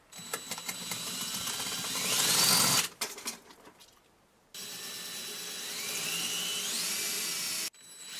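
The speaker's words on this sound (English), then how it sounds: "so let's drill this one. We're at the top of the brick here." A power drill bores into brick in two close bursts, its whine climbing in pitch as it grinds through the masonry, separated by a brief pause with some handling noise.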